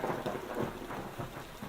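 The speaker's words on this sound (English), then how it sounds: "Oh look, it's raining." Rain falls steadily in the Parkitect simulation game with British-style weather, a soft, even hiss carrying low rumbling swells of thunder, fairly quiet throughout.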